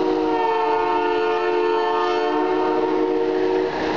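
A Georgetown Loop Railroad train near Clear Creek sounds a loud, sustained, multi-toned horn that holds steady for about four seconds, with no talk over it.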